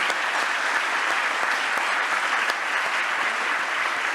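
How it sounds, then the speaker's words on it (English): Audience applause at a plenary session of the 2025 TSC consciousness conference in Barcelona, a dense, steady wash of clapping from a large crowd, loud and continuous throughout. "Let's give Earl K Miller a round of applause."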